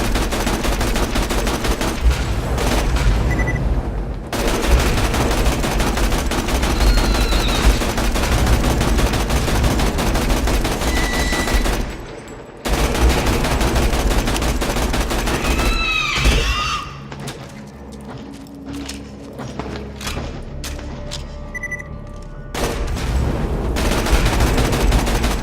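A Sawbar assault rifle fires in Borderlands 2 in long, loud, rapid bursts with short pauses between them, set against game effects and a few high chirps.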